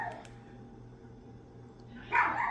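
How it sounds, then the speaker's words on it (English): Puppy barking, a short yappy burst near the end after a quiet stretch with faint background hum, fairly close and moderately loud, no speech over it. "There's my puppy."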